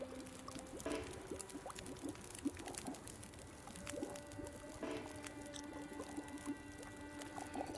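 Water boils and bubbles in a pot in the survival game The Long Dark, with soft gurgling, pouring and watery squelching sounds that are quiet and steady throughout, with no voices.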